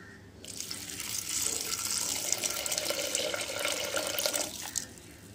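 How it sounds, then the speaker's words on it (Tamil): Water pours steadily from a tap into a cooking pot for lentil and sorrel greens curry, a continuous splashing stream lasting several seconds at close range before cutting off. "தேவையான அளவு தண்ணி சேர்த்துக்கலாம்."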